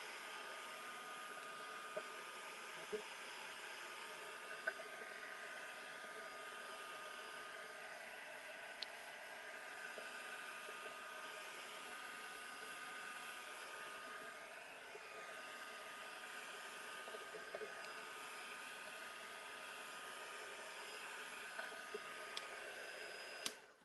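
A dryer blows in a steady, even whoosh across wet paint on a mixed media piece, continuous and fairly quiet, with no talk.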